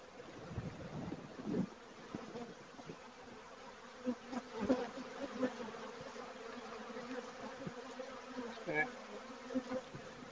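Dense buzzing of many honeybees hums steadily around an open hive during the season's first inspection, close and continuous, with occasional louder passes.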